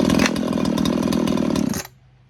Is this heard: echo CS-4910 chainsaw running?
yes